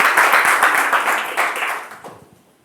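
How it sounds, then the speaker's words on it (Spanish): A burst of enthusiastic applause from a church congregation, loud at first and then fading away over a couple of seconds. "denle un fuerte aplauso al Señor."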